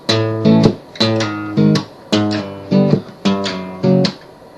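Acoustic guitar picking a bass note then strumming descending chord shapes for a song, about eight crisp close strokes in an even rhythm, played alone.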